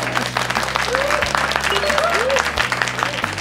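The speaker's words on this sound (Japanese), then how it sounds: "拍手でお迎えください" A studio audience at Akihabara Backstage Pass claps steadily to welcome a guest, close and lively, with a voice speaking over the applause.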